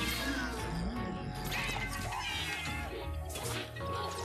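A cartoonish cat meows repeatedly in Luigi's Mansion 3, mixed with game music and effects and fairly close, while a player's voice chatters faintly underneath.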